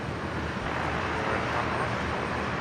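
An airliner departing from runway 01 right at Brisbane Airport gives a steady, broad roar of jet engines that holds evenly throughout, with faint radio or speech in the background.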